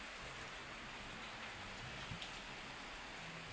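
Heavy rain falling steadily in Santa Rita, Oriental Mindoro, heard from inside a room of a house: a dense, continuous hiss of downpour with no pauses, fairly close and loud, with no talking.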